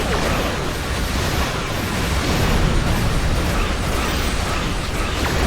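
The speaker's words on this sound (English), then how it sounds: "Fire another torpedo." Starship torpedo fire and explosions in Star Trek Online, a dense continuous roar of blasts and crackling bursts, loud and sustained with no talk.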